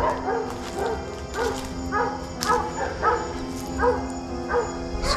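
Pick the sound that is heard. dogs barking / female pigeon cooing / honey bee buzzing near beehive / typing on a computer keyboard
dogs barking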